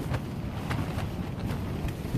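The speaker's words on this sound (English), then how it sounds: "It's windy." Wind buffets the microphone at a beach campsite near Eastbourne in October, making a low, steady rumbling roar with soft gusty swells. No one speaks.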